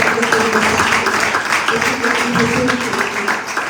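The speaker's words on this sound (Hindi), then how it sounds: "जोरदार तालियां बजाएंगे" A congregation at a Sunday Urdu church sermon breaks into sustained, dense applause, a continuous wash of clapping with some voices mixed in.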